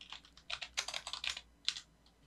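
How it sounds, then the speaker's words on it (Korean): Computer keyboard arrow keys, up and down, pressed in quick irregular bursts while using AutoCAD commands, close and fairly soft, with no talking. "키보드 방향키 이렇게 위 아래 버튼 누르면"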